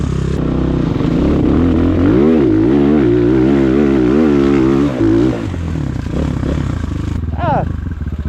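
Rottor Bronx 300 motorcycle engine pulling in first gear, a loud, steady drone whose pitch wavers as the throttle is eased and reopened, with a brief rev rise near the end.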